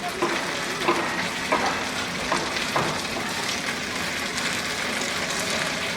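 Chicken pieces fry in oil in a pan with a moderate, continuous sizzle, broken by a few sharp scrapes and clacks as they are stirred, close and without speech.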